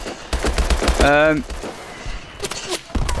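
Gunfire from the futuristic shooter Call of Duty: Advanced Warfare, played in single player: rapid bursts of in-game shots with loud impacts up close, mixed with a voice speaking over the action.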